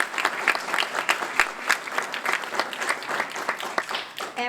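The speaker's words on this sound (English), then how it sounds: "And we are clapping and cheering" Applause and cheering from an audience at an HBCU Day gathering at the Louisiana Legislature, with dense, steady clapping and scattered whoops that carry loudly for several seconds before tapering off at the end.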